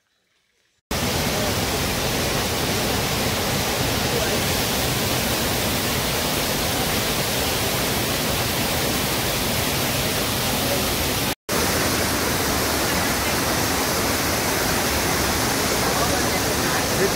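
A waterfall in West Sikkim roars as a loud, steady, unbroken rush of falling water, close and constant with one brief cut, and no audible talk over it.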